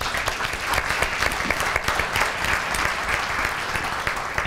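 An audience at a policy breakfast event applauds the panelists with continuous close clapping that holds steady and loud from start to finish.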